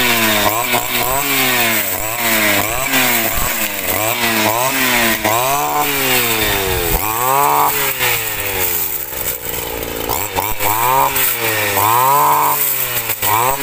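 A petrol grass cutter runs loud and close in a field during clearing work, its two-stroke engine droning steadily with repeated revving surges throughout.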